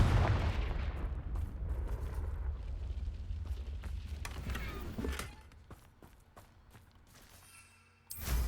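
Rumbling blast spell with crackling impacts in the wizarding game Hogwarts Legacy, a loud, sustained explosive roar that fades, then a sharp fresh burst at the end.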